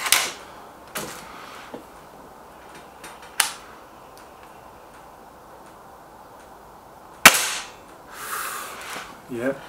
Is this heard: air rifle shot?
yes